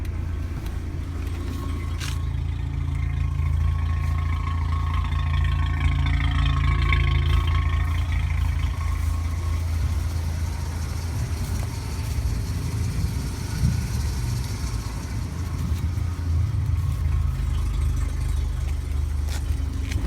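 A car engine idles low and steady throughout, a constant close rumble with slight variations and no speech.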